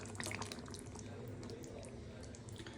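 Water from a cashew, yogurt and milk paste being poured into a pan of paneer dahi makhani curry, a steady close liquid pouring and splashing sound lasting the whole moment without talk.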